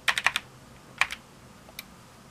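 Keystrokes on the keyboard of a Briel Replica I, an Apple I computer clone: a quick run of four clicks, then a pair, then one lone tap, crisp and close in a quiet room.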